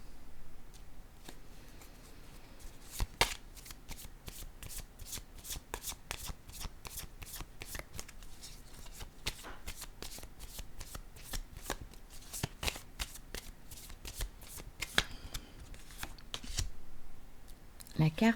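Tarot cards shuffled by hand in a steady run of crisp, rapid riffling clicks and slaps that carry on throughout, close and fairly quiet.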